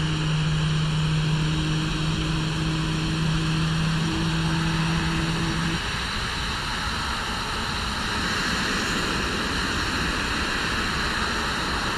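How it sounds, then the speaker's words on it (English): Engine number 2 of an Airbus A321neo spools up in the FSLabs flight simulator, a steady, loud, whooshing roar with a humming tone that fades out partway through while the rush continues. "Enjoy the spool up of engine number 2."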